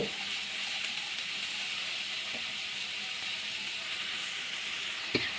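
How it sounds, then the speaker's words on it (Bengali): Yardlong beans fry in a pan with a steady, moderately loud sizzle and hiss throughout, broken by a couple of faint utensil taps. "তারপর বরবটিগুলোকে খুব ভালোভাবে ভেজে নিতে হবে"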